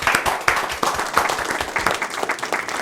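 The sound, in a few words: applause for both quiz teams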